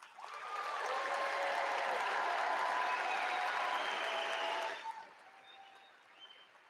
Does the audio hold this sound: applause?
yes